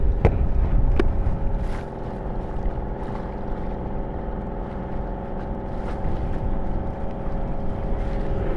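An outboard motor drones loud and steady on a guide's boat heading out on the water toward Ratto Kot fort, a continuous close engine hum with wind buffeting and a few sharp knocks.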